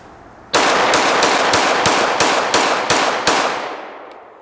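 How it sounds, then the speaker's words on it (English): A Glock 21 .45 caliber handgun fires a fast string of about ten loud shots in a steady, rapid rhythm, each crack ringing briefly before the next, then a fading tail. "we're gonna do that same fast fire string with the Glock 21, so 45 caliber"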